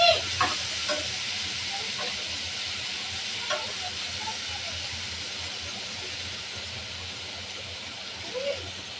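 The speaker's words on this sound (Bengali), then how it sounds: "পেঁয়াজটা ভালোভাবে ভেজে নেব।" Chopped onions and chillies fry in a pan after shrimp, giving off a soft, steady sizzle with occasional light clicks of stirring.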